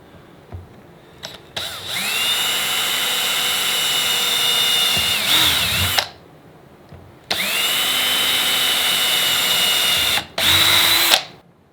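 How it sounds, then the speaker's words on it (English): A power drill with a 1/8-inch bit whirs steadily in two long bursts, each rising to a strong whine then winding down, with short taps and clicks in between. "We're going to drill these with a 1/8 drill bit"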